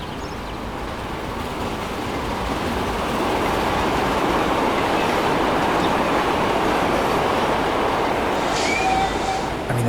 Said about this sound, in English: this is a sort of speed we're expecting the train to go past at.